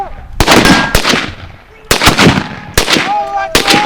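Live rifle fire during a WWII squad tactics drill: several sharp, loud shots crack out at irregular intervals, close by, with faint shouting between them.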